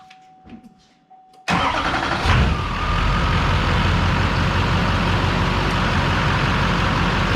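A Duramax diesel pickup truck engine with a newly installed stock airbox cranks briefly and catches, settling into a steady, loud, rumbling idle close by.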